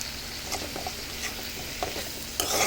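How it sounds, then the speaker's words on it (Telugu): Tomato pieces are stirred into chili masala frying in a pan, with a continuous sizzle and repeated scraping stir strokes, ending in a louder burst of frying. "కారం వేసిన తర్వాత ఇందులో టమాటా ముక్కలు కూడా వేసుకోవాలి."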